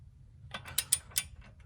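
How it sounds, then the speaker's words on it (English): A torque wrench set to 80 foot-pounds clicks while tightening a Rock Jock HD drag link: a few sharp, close mechanical clicks in quick succession, then quiet. "That's the click that you're looking for"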